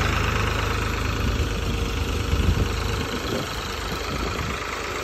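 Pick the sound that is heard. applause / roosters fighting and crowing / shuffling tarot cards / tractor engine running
tractor engine running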